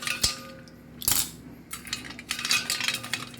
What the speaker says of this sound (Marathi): 4-5 टाइम्स तरी धुवून घेऊ का तिसरे